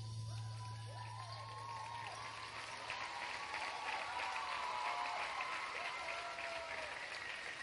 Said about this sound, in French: le public applaudit